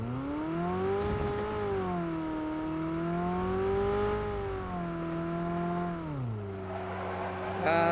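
In PUBG Mobile, a car engine revs in a loud, sustained drone that rises and falls in pitch as the car drifts. A brief screech comes early and another pitch drop near the end.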